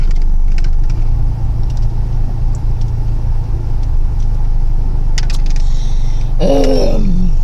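A car drives with a steady low engine and road rumble throughout, its brakes hard to push; near the end a brief rising squeal and a harsher burst mark the braking.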